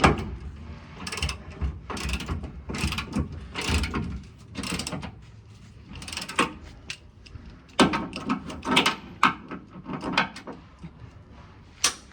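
Bolts are tightened on a tow hitch being fitted to a Mitsubishi Triton, with repeated clicking ratchet strokes in short bursts and metallic clatter at close range.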